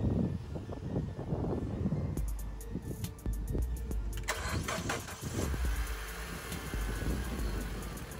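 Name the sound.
car engine starting, Honda Civic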